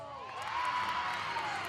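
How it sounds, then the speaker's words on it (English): Crowd cheering and whooping at a women's college gymnastics meet in Rec Hall, Penn State against Nebraska, rising after an uneven bars routine; a steady, fairly distant roar with scattered whoops. "as the crowd gets going here at Rec Hall"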